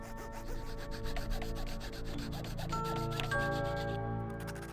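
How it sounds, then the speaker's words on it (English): Rough edges of hand-cut pipes are lightly sanded smooth by hand, giving a steady rhythmic rubbing rasp with a faint tonal hum behind it, close and continuous with no voices. "to clean the rough edges, I lightly sanded them smooth"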